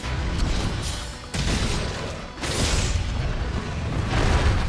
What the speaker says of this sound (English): Utilize the guard shot to unload a burst of slinger fire from behind your shield.